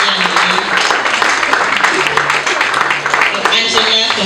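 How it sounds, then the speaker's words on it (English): Audience at a 2021 graduation ceremony in Nairobi claps steadily for a graduate walking up, a dense, continuous patter of many hands filling the whole stretch, with a voice faintly mixed in. "Let's continue to clap as she makes her way."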